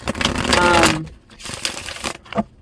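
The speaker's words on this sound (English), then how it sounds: "Shuffle my Real Ass Guidance cards." A deck of guidance cards being shuffled by hand, a quick riffling burst up front followed by softer scattered card flicks, close and fairly loud.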